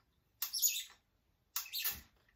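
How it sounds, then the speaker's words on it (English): A cart wheel gives two short, high squeaks about a second apart, shrill and bird-like, against near silence. "It does squeak a little."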